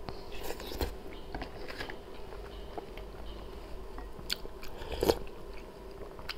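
Someone bites and chews pizza close to the microphone, with soft crunchy bites and mouth sounds over a quiet background and a sharper crunch near the end.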